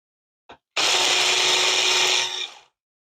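A food processor pulses jalapeño salsa with diced tomatoes and seasoning, giving one short blip and then a loud, steady whirring burst of about two seconds that winds down quickly.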